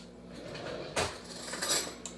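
A teaspoon clinks against dishes while filling in a home kitchen, a couple of quick metallic taps over faint background.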